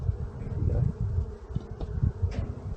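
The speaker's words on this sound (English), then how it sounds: "Great fun to just sit and watch them come and go from the hive." Honeybees coming and going at the entrance of a hive buzz in a low, continuous hum nearby, rising and falling as individual bees pass close.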